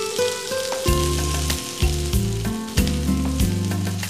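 Onion pieces fry with cumin in a pan, a crackling sizzle up close, overlaid by loud sustained musical tones that rise and fall throughout.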